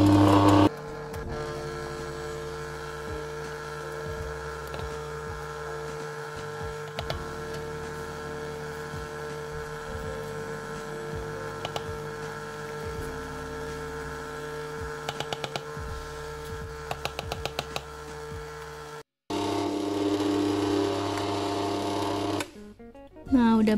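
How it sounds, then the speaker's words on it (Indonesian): An electric hand mixer runs steadily for about twenty seconds, beating butter and flour into sandy crumbs for a marble cake batter, with a brief stop near the end. "Sambil kita mixer ya, sehingga adonannya nanti berbulir-bulir seperti pasir."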